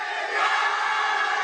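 Steady roar of a stadium crowd at a women's football match between India and Nepal in a Tri Nation tournament, a broad continuous wash of voices filling the whole moment without a break.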